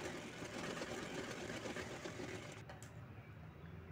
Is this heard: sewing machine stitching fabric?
yes